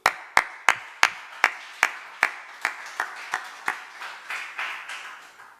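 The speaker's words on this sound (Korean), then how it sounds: "박수." An audience at a church service claps in unison, about sixteen sharp, evenly spaced claps in a steady rhythm that gradually soften and blur toward the end.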